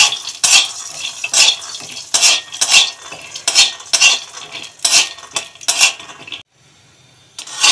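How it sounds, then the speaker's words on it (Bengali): Peanuts tossed and stirred in a wok with only a little oil, giving repeated sharp scraping, rattling clatters in an uneven rhythm, close and loud, with a short quiet gap near the end. "জাস্ট এইটুকু তেল দিয়ে বাদামগুলোকে আমি এখন ভেজে নেব"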